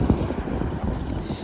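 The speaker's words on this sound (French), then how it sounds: "je trouve qu'ici il y a du vent, il y a un bon petit vent" A steady, moderate wind buffets the microphone at a roadside stop in New Mexico, a continuous broadband rush with no pauses and no other clear sounds.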